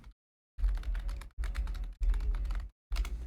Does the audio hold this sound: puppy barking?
no